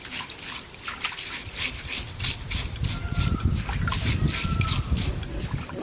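A large cow head is rinsed with running water, giving a steady splashing, gurgling wash that stays fairly loud and continuous throughout, with no talk.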